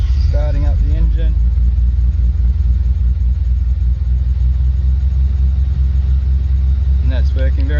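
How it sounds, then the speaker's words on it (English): A Nissan 300ZX engine runs with a steady, loud low rumble close by, settling into an idle, with brief voices at the start and end. "turning the ignition on and starting up the engine"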